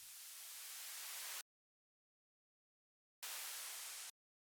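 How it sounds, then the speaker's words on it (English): A reversed, textured white-noise riser in a melodic house arrangement, a hiss that swells up to an abrupt cutoff, then after a silent gap returns briefly and stops again. "we have this fall sound, very simple, like textured white noise riser that's been reversed"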